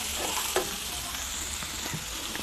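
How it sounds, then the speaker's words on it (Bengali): Chickpeas (boot) seasoned with turmeric, garam masala and salt fry in a pan for a bhuna khichuri, giving a steady close sizzle with a few sharp scrapes of stirring. "বুটটা আমি এখন ভুনা করে নেব"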